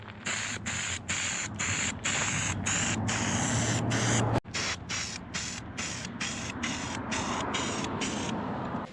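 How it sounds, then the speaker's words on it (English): Rust-Oleum spray paint hisses from a rattle can onto a car trailer in loud repeated bursts, each spray separated by brief gaps, with one sharp break midway. "Got a rattle can. We're gonna try touching it up and see how that works."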